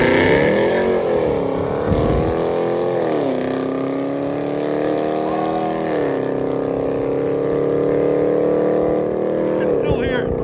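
A 2017 RAM 1500 with a 5.7L HEMI V8 and true dual exhaust on straight pipes rumbles loudly and close, its deep exhaust note rising and falling through several revs before a sharper rev near the end.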